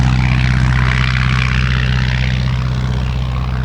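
Propeller engine of a tail-skid vintage aircraft taking off from tarmac at the Serpentine Victoria Centenary Air Show, a loud, steady buzzing drone with a strong low throb, close by and without voices.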